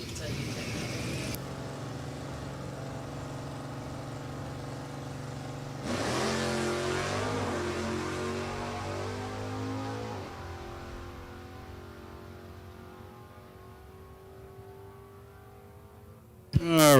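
A 1983 Chevrolet Camaro G Stock Automatic drag car at a New England dragway idles with a low, steady rumble, then revs sharply around the middle and settles back. An announcer talks over it.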